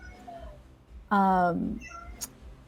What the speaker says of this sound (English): I hear a yowling, and I was like, is that a cat or something else?